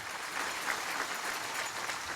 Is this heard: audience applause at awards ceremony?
yes